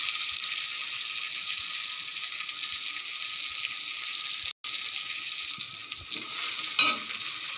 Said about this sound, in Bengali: এটা একটুখানি নেড়ে নেব